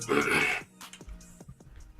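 A single rough throat-clearing rasp up close, followed by quieter low grunting noises.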